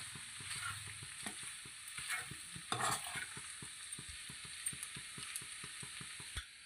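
Pasta with coriander stirred in a pan, with steady quiet sizzling and regular soft scraping strokes of a spoon, plus a few louder clinks, and nobody talks.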